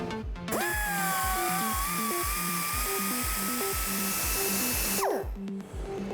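High-pitched whine of a rotary burr grinder porting a Mazda RX7 rotary engine housing, spinning up, holding a steady tone over rhythmic tapping beneath, then winding down near the end.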